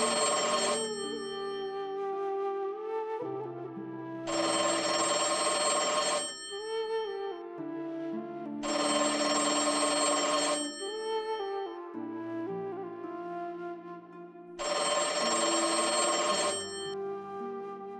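A telephone rings in repeated loud electronic bursts, four long rings separated by pauses, with quieter background music between them and no talk.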